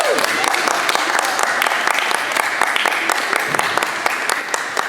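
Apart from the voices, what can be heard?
audience applause for a drone soccer team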